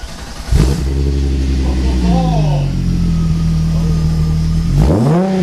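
A Volkswagen engine cranks and catches, then settles into a steady, loud idle with a couple of short revs, heard close up from behind the car near the exhaust.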